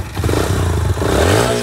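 A motorcycle engine revs hard up close, its pitch climbing with a rough, rattling roar.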